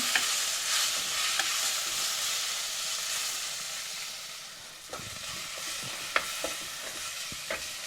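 Small tomatoes sizzle steadily in a hot pan for a Sri Lankan prawn curry, with a soft hiss throughout and occasional scraping clicks as they are stirred.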